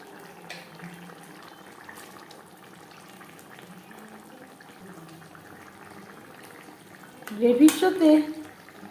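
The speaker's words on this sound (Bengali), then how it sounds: "3-4 মিনিট গ্রেভি বেশ ভালো করে ফুটিয়ে নেওয়ার পর দিয়ে দেবো ভেজে রাখা মাছ।" Bhola fish gravy bubbling in a pan while cooking a bhuna, a soft steady simmer throughout that swells into a louder burst of sizzling and bubbling near the end.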